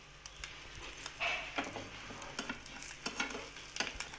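An egg frying in a pan for a half-fry omelette, seasoned with salt and chili powder, gives a soft sizzle under light scraping and tapping of a spatula, in short irregular strokes heard close up.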